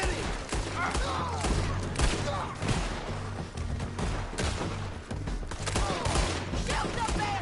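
Rapid bursts of gunfire in a Red Dead Redemption 2 shootout, repeated sharp shots cracking in irregular volleys over shouting voices and game noise.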